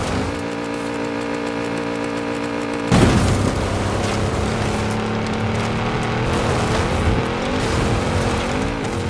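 Video-game race cars, including a Funko F9 and a Porsche, launching off a hill jump, with a sustained engine whine, a sharp thump as they land, then continued revving and tire noise.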